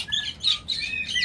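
Several sharp, high tweets from a black-throated laughingthrush follow one another in an uneven run, sounding close and alone with no talk.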